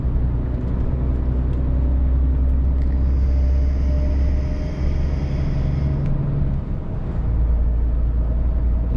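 A Scania R450 truck engine drones steadily at close range, a deep continuous rumble holding level throughout as the lorry accelerates on cruise control along a main road, with no voices.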